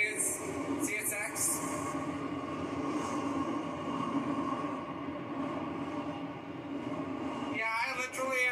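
A CSX freight train rumbles past steadily at close range near Deshler, Ohio, a continuous low roar of rail noise lasting the whole stretch, with a brief squeal near the end.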